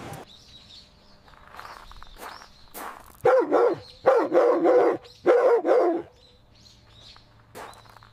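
A puppy outdoors on grass lets out three loud, sharp barks close by, each followed by a pause, with birds chirping faintly in the background.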